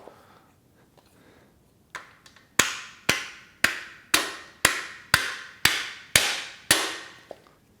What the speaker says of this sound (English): got our rubber mallet again